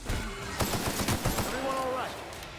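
Rapid bursts of assault rifle fire rattle in quick succession during a firefight in the video game The Outer Worlds, moderately loud, with a voice speaking over the shots near the end.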